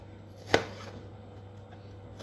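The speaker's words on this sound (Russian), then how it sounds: "Лук нарезаем мелкими кубиками." A knife chops onion into small cubes on a board, one sharp close cut standing out clearly against a quiet background.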